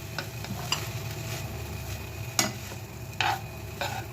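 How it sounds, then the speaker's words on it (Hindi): A spoon stirs salt and crushed chili into a cheesy sandwich filling in a bowl, soft scraping and clinks against the dish in a steady rhythm, with no talking. "अब हम इसको सब कुछ में डालेंगे और फिर इसको मिक्स कर देंगे।"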